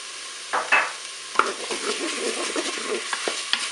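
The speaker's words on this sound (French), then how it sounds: "Je vais ajouter l'ail." Garlic sizzles and fries in a Cookeo cooker, a close, steady crackle with stirring scrapes and a few sharp clinks of a utensil against the pot.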